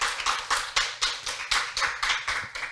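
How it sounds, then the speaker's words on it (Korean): A small conference audience at a smart tourism session claps for the presenters, a sparse, fairly close patter of hand claps in an uneven rhythm, with no talking. "박수를 부탁드립니다"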